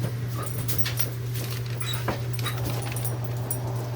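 A small dog whimpers softly and pants in short, quick breaths close by, with faint high whines over a steady low hum in the room.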